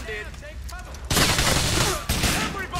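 Loud gunfire from GTA 4: The Ballad of Gay Tony erupts as a dense fusillade partway through and continues for about two seconds. A voice is heard just before the shooting begins.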